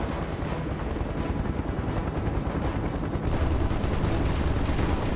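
A helicopter in the video game Final Fantasy VII Remake whirs loudly and continuously, mixed with dense bursts of gunfire throughout.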